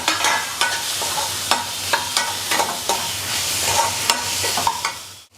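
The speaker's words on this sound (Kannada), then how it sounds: "ಈ ಥರ ಎಲ್ಲ ಚೆನ್ನಾಗಿ ಹುರ್ಕೋಬೇಕು" Paneer masala frying in a pan with garam masala powder being roasted, a close steady sizzle broken by regular scraping stirs of a spoon.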